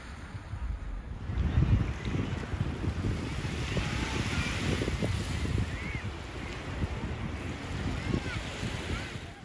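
Ocean waves and wind at a beachside, a steady broadband wash of surf with wind buffeting the microphone, moderately faint and continuous without clear individual breakers.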